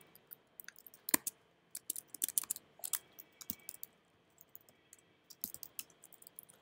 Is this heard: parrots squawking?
no